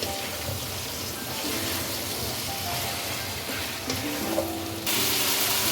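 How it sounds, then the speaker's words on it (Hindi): Eggplant sizzles steadily while being fried and stirred in a pan for an aloo baingan curry, with the crackle staying continuous and close and getting slightly louder near the end. "अब 2 मिनट तक बैंगन की भुनाई कर लेते हैं।"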